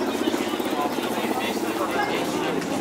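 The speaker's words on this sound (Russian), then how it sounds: "Вертолет летит." A helicopter flies over an outdoor fruit market in Alanya, Turkey, its steady rhythmic rotor chop loud and continuous beneath a man's speech.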